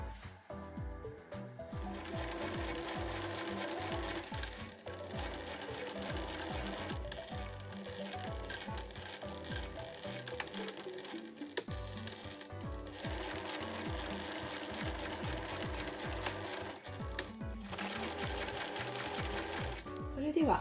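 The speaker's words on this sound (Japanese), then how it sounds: "こんな感じでそれぞれの際を縫います" A sewing machine runs in rapid bursts of rhythmic stitching along the edges of cotton backpack fabric, close and steady with brief pauses between seams.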